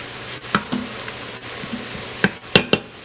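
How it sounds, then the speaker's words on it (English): Ground turkey sizzles and fries in an Instant Pot while a utensil stirs it, with several sharp scrapes and clacks against the pot over a steady crackle. "Let's give that a stir"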